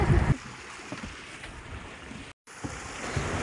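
A small passenger boat crossing the Turag river, giving a steady wash of water and wind noise, with a louder splash and rumble at the very start and a brief dropout partway through; no talking.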